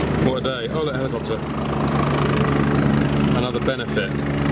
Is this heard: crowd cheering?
no